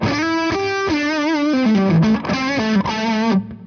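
Electric guitar with fuzz on the bridge pickup plays single-note lines with bends and vibrato, loud, buzzy and sustained, close up with no talking.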